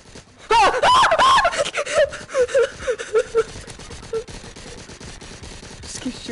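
Gunfire in the zombie VR shooter Arizona Sunshine, a burst of repeated shots with a gasping, strained voice over the first second, then scattered irregular pops and thuds of varying loudness.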